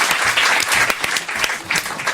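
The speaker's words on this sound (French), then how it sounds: "On vous applaudit pour cette belle histoire d'amour." A studio audience on a radio talk show applauds, a short burst of dense, lively clapping from a crowd close by.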